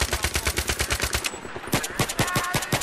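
Rapid, heavy G3A3 battle rifle gunfire in the first-person shooter Battlefield 3, a close burst of evenly spaced sharp shots, a brief pause, then another quick string of cracks.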